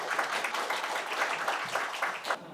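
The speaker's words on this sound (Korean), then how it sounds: "큰 박수로 김인호 의장님 모셔보도록 하겠습니다." A crowd at a Korean forum on academy COVID-19 prevention applauds steadily, dense clapping filling the space at a moderate, even level with no voices on top.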